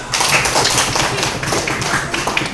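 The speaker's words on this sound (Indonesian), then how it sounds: "Tepuk tangan semuanya." A class of middle-school students at an Islamic boarding school claps together in a dense, loud burst of applause that continues without a break.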